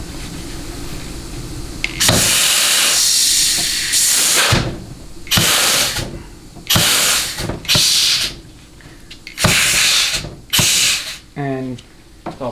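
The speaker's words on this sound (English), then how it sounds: "boatload of air coming out of this nozzle" Compressed air blasts from a nozzle during a 6L90 transmission teardown, a series of loud, sharp hissing bursts of varying length, some long and some short, with brief pauses between them.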